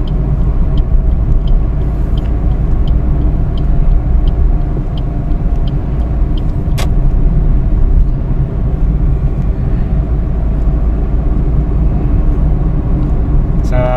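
A Suzuki Dzire GL Plus with AGS automated gear shift drives along a road, its engine and tyre rumble forming a steady, loud in-cabin drone with faint ticking and a brief click midway.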